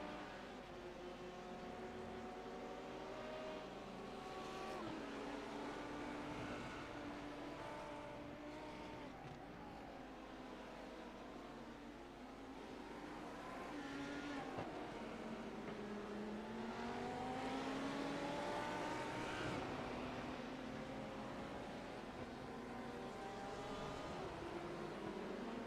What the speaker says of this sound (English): They are looking to get through on the Orion Race Team Pack GT3 car as well.